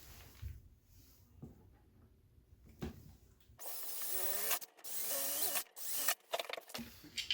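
A power drill with a 4mm bit bores holes into center-punched marks for a battery clip, after a few quiet taps, with bursts of high whirring broken by short pauses, close by and without speech.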